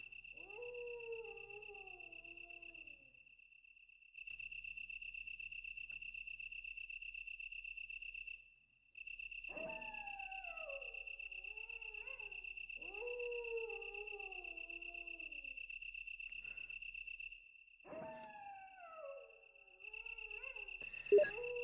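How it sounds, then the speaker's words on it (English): Dogs howl in the Resident Evil Director's Cut game on PS5, several long mournful falling howls in overlapping bursts over a constant high chirping insect-like drone. "the dog sounds of the howling are the same that were in, you hear them from time to time in Castlevania Symphony of the Night"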